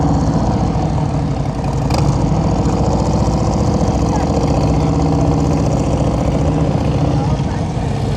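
A motorcycle idles and creeps slowly around practice cones, its engine giving a loud, steady low rumble with little change in pitch, heard close throughout the clip.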